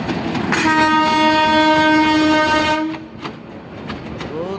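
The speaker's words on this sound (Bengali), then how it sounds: "নারায়ণগঞ্জের দিকে যাচ্ছে ট্রেন।" A passenger train running toward Narayanganj passes close by, a loud sustained horn blast sounding over heavy rumbling and wheel clatter, then cutting off as the rolling noise continues.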